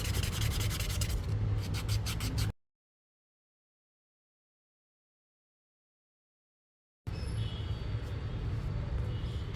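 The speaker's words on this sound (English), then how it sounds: "What I'm going to do next is buffing the nails to remove the scratches that I have made from the previous filing" A nail buffer rubs across fingernails to smooth out filing scratches, making rapid, close scratchy strokes in two bursts separated by several seconds of complete silence.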